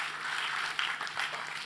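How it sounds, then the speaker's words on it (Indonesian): Congregation applause in an Indonesian church service, a dense, steady patter of many hands clapping at moderate distance, without pause. "Beri tepuk tangan yang meriah buat Tuhan"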